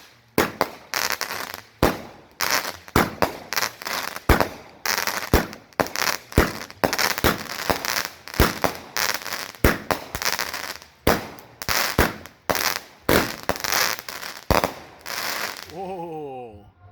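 Happy Clown Bomb firework cake of 16 shots firing, with a rapid series of loud sharp bursts and heavy crackle across the whole stretch, then a brief whistling tail at the end.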